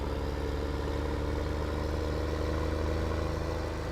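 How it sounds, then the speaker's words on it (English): A tractor engine idles steadily in Farming Simulator 17 with a low, even rumble and faint mechanical clatter that hold constant throughout, with no voices. "this tractor is being brought over here specifically for another reason as well"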